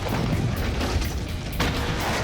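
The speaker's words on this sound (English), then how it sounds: "One magnificent, made-to-order apartment explosion." A staged apartment explosion that blows out the whole front of the unit, heard as a loud, sustained broadband roar and rumble of blast and debris filling the whole stretch, with no voices.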